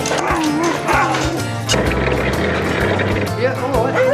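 Several dogs bark and yip loudly over a busy, chaotic scene with voices talking throughout, the barking rising and falling in repeated bursts.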